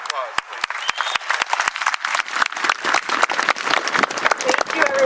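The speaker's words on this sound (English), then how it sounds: "another round of applause, please" An audience at a Veterans Monument dedication in Estes Park gives a round of applause, steady dense clapping with a few sharp individual claps standing out, fairly close and sustained throughout.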